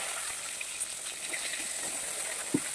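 Eggplant slices, salted and sugared, frying in oil in a pan, with a steady faint sizzle, a few soft pops and one brief louder crackle near the end.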